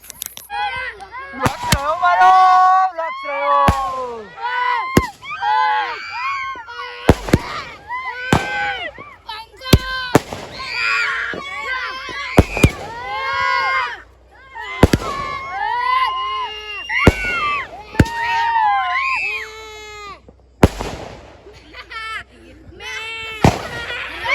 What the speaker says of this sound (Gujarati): આપણે ટેટા ફોડી દીધી